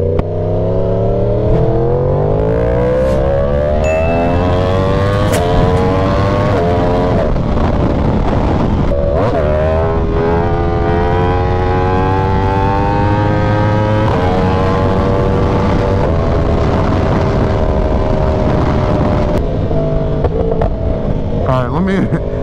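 A Yamaha R1M motorcycle engine hums and rises through the gears while riding, its pitch climbing and falling in long sweeps under steady wind noise; a rider talks over it throughout.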